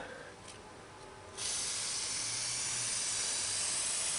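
A can of brake cleaner sprays in one sustained hissing burst onto a clutch shaft, close and steady after a brief quieter start.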